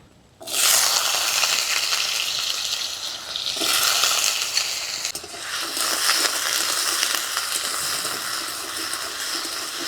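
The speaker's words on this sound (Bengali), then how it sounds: "কড়ার মধ্যে দিয়ে দিব কিছুটা সরষের তেল প্রথমে আলুগুলোকে একটু ভেজে নেব" Potatoes frying in mustard oil in a wok give a loud, steady sizzle that starts abruptly, with occasional stirring scrapes and swells, running throughout without speech.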